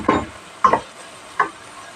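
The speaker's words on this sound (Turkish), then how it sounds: "Bir de böyle biberiyle kavrulsun." Peppers and spices being stirred and sautéed in a pan, three short, loud scraping strokes with quiet pauses between them.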